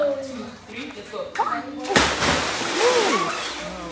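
A swimmer's head-first dive enters an outdoor pool during a swimming lesson, giving one sharp splash followed by sloshing water, with children and an instructor talking around it.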